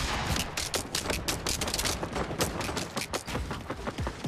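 Video game gunfire: dense, rapid bursts of shots crackling almost continuously, with mechanical clatter woven between the reports, loud and close throughout.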